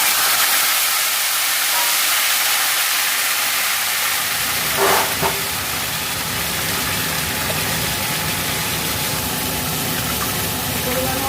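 Pumpkin stalks sizzle in hot oil with five-spice tempering and bay leaf, giving a loud, steady broadband hiss that thickens with a low rumble partway through.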